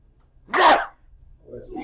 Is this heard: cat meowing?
no